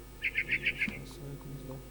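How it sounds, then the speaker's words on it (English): A barn swallow in a video game chirps five quick, bright notes in a row, followed by faint background murmur. "It was a barn swallow going back to her nest."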